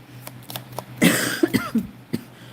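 A burst of coughing, a few rough hacks close together, loud and near, with a faint steady hum underneath.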